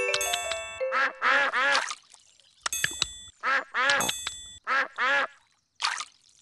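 Cartoon ducks at a pond in the Peppa Pig's Golden Boots game give a run of loud, close quacks in several quick bursts, mixed with bright chiming and clanging game tones.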